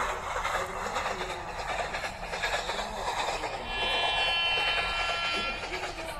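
A train rolls past in a 3D Indian train video game, a steady broadband rumble with faint wheel clatter and a brief high squeal, fairly close and continuous throughout.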